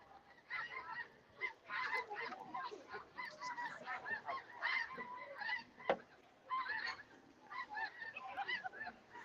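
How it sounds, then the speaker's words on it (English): Geese flying south over southeast Saskatchewan honk repeatedly in a busy overlapping chorus, moderately distant and fairly faint, with no talking. "The geese are flying south here in southeast Saskatchewan"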